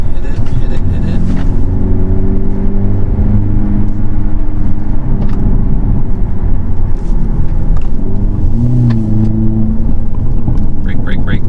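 A 2022 Hyundai Elantra N accelerates hard on a track, its engine note loud and close, rising through the revs with a shift partway, while a driver talks over it.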